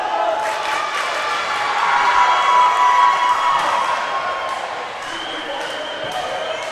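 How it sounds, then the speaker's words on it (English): Crowd at a high school volleyball match in a gym roaring and cheering after a four-set win, sustained loud shouting with scattered whoops and squeaks, a commentator speaking over it. "Just listen to this crowd."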